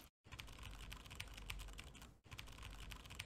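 Fast typing on a computer keyboard, a dense patter of close, crisp key clicks with a brief pause, quiet and without any voices.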